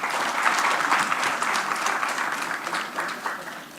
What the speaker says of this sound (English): So I would request another applause for the speakers as well.